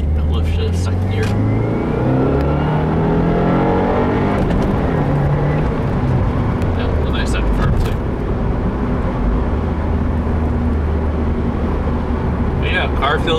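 Engine of a 2015 Subaru WRX with a Stage 1 tune and new clutch pulling hard in second gear through a no-lift shift, a loud sustained rising drone with pitch sweeps, continuous from start to finish, with some speech over it.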